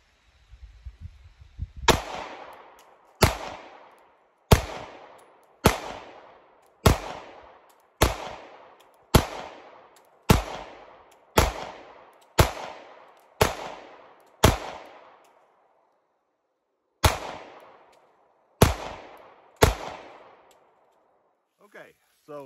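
A Springfield Hellcat Pro pistol with an Apex trigger fires 115 grain Blazer brass rounds at a target: about fifteen loud, sharp shots in a steady rhythm roughly a second apart, with one short pause near the end.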